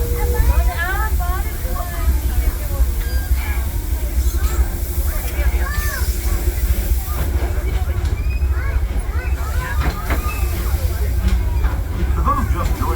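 Riding aboard the Disneyland Railroad steam train pulled by locomotive Fred Gurley, a steady low rumble and rattle of the cars with hiss, while passengers chatter and voices talk over it throughout.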